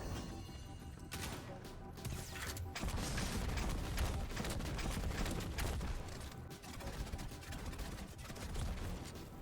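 Grenade launcher firing in a video game, with dense overlapping blasts and booming impacts in rapid bursts, loud and continuous, with a short quieter gap near the start.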